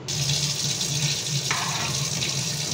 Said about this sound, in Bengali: ওই জন্য একটু গরম জল দিই, নাহলে ডুববে না সব